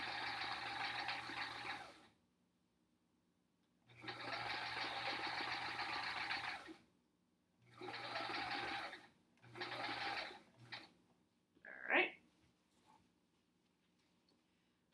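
A sewing machine stitches through thick hourglass quilt triangle seams, running in four steady bursts separated by short pauses, close and fairly loud, with a few small handling clicks and a brief squeak near the end.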